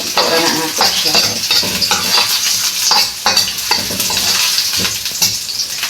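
Garlic fries in a pan with a loud, close, steady sizzle and crackle, while the pan is stirred and scraped now and then.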